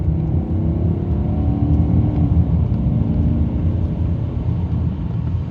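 A BMW 740i V8 car accelerating hard, a loud, steady low engine roar from inside the cabin that holds throughout with faint rising tones.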